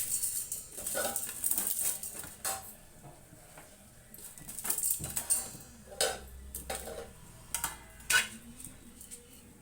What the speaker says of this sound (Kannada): ಈಗ ಬೇಳೆ ತೊಳೆದು ನಾನು ಸೇರಿಸ್ತೀನಿ ನೋಡಿ ವೀಕ್ಷಕರೇ ನಾನು ಬೇಳೆನ ತೊಳ್ಕೊಳ್ತೀನಿ